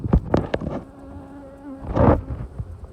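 Honey bees buzz around an opened hive frame at summer's end, a close droning hum with louder swells as individual bees pass near, plus handling bumps.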